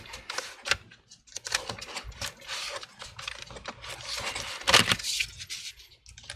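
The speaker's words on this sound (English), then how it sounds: "let's go ahead and remove the battery" Plastic clicks and rattling as the battery is slid out of an HP 17 bs043cl laptop, a run of small irregular mechanical knocks and scrapes, close and fairly quiet, with no talk.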